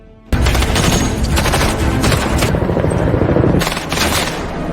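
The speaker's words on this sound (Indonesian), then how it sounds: "Dan terjadilah baku tembak." Gunfire in a film gunfight scene: a loud, dense burst of shots and crackling blasts starts abruptly and keeps going almost without a break, close and overwhelming.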